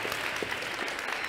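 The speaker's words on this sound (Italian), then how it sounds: "ho bisogno di una assistente graziosa e carina alla quale facciamo un applauso mega galattico" Audience applause at a magic show, a dense steady wash of clapping that fills the brief moment from start to end at moderate loudness, with no voices over it.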